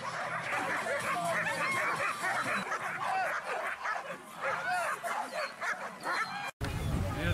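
Dogs barking, yipping and whimpering at a dog obedience competition in Smila, continuous and fairly loud with overlapping calls and crowd noise throughout, ending with a brief cut.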